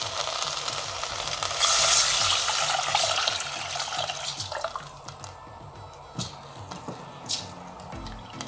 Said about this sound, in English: And then you can add water